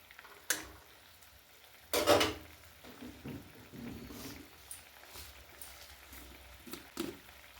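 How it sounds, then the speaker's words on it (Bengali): Fried prawns tipped into a simmering capsicum and sauce gravy and stirred, giving a few sharp splashing sizzles and scraping stirs close by, with quieter bubbling between. "এবার এই যে ভাজা চিংড়ি মাছগুলো দিয়ে দিচ্ছি।"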